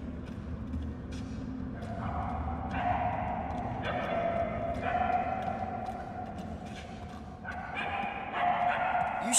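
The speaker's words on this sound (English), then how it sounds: "If you're trying to follow the barks, then yeah, he's sure." A dog barks and yips repeatedly in short bursts inside the Guardians of the Galaxy video game, a moderately loud, echoing sound over a low ambient background.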